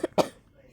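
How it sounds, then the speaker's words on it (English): A person with COVID coughs twice in quick succession, close and fairly loud, followed by quiet room tone in a dark bedroom. "Yeah, and I'm still coughing."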